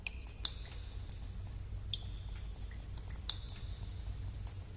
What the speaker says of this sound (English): put some dripping water sounds over here.